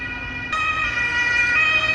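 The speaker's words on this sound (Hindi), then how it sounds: "ये है एम्बुलेंस, और थोड़ी सी भी इमरजेंसी हो तो ये रन बजा लेते हैं।" An ambulance siren sounding nearby on a street where trains often pass, a steady electronic tone that swells louder partway through the short clip.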